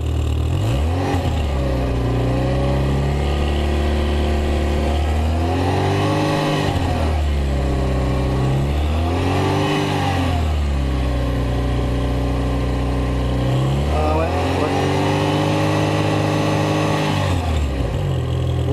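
Car engine repeatedly revved during an exhaust emissions test at a vehicle inspection, loud and close, rising and falling in several long swells over a steady idle hum, with no talking.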